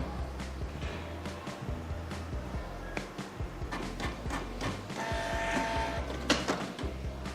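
A printer runs off an eBay shipping label with a steady mechanical whir and a string of rapid clicking feed pulses, fairly close and moderately loud.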